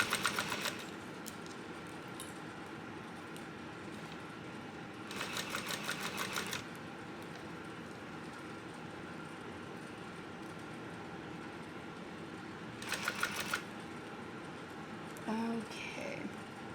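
A sewing machine runs in three short bursts of rapid stitching along a backpack seam, with quiet room noise and faint handling sounds between them.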